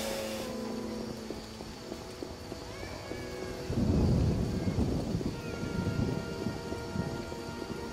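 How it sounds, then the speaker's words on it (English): Rain falls outside, a steady hiss of drops with low rumbling swelling midway, heard from indoors and fairly close. "It's raining outside"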